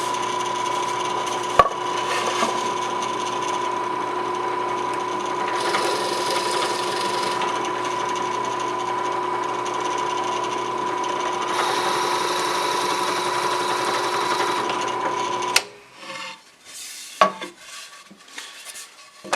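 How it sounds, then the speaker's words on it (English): A drill bores holes for screw plugs in the wood of a patio chair, a steady, loud motor whine running unbroken for about fifteen seconds before cutting off, followed by a few scattered clunks and taps. "Drill down about 3/8 of an inch. Again, that allows enough room for the screw plug to grab hold."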